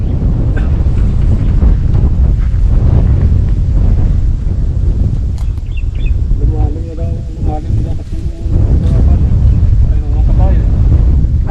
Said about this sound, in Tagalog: Ngayon mahangin.